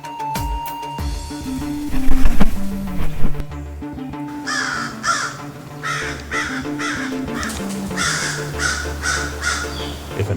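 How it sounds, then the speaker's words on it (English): Gang of crows gathering just after dawn, mobbing; repeated harsh caws in bursts over a busy, layered background, fairly loud and close, with some talk mixed in. "small gangs of mobster crows usually begin gathering just after dawn."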